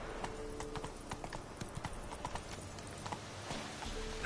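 Hooves of Geralt's horse Roach clip-clopping in The Witcher 3 game, a steady walking rhythm of light, even hoof strikes, moderately quiet, with no speech over them.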